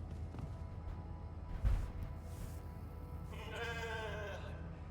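Sheep in a video game gives one wavering bleat near the end, fairly clear and close, following a quieter stretch of low ambient game noise and a brief thud.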